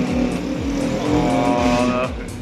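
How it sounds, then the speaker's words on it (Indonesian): A loud, rumbling aftermarket motorcycle exhaust, a DPJ GP1 or Jigsaw on a Yamaha Scorpio, roars steadily with repeated revving pulses, close and harsh throughout. "Knalpot yang super berisik"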